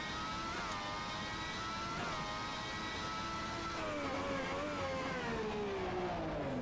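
Howling V12 race car engine in rFactor 2, held at high revs with sharp gear changes near the start, then pitch sliding steadily downward as it decelerates, loud and continuous throughout.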